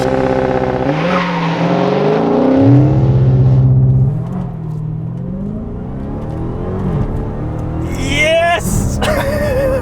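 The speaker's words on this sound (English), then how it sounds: "2020 Dodge Charger SRT. Hellcat Widebody with launch control." A 2020 Dodge Charger SRT Hellcat Widebody with its 6.2-liter supercharged V8 launches hard on launch control, a loud rising engine roar through the gears with tire squeal, and someone shouts excitedly over it.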